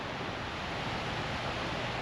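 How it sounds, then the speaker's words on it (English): Water of Lake Superior at Brimley State Park, Michigan, heard as a steady broadband wash of waves and surf, constant and moderately soft with no voices. "we can hear the water"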